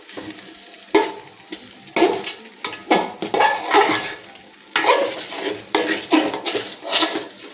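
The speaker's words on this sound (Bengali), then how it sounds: "চালটা একটু ভাজা ভাজা হয়ে আসলে তারপর আমি আদা রসুন বাটাটা দিয়ে আবারও ভালোভাবে নেড়ে চলে মিশিয়ে নিচ্ছি" A spoon repeatedly stirs rice frying in a pan with ginger-garlic paste for biryani, sizzling with scraping clatter in uneven strokes, close and fairly loud, with no talk.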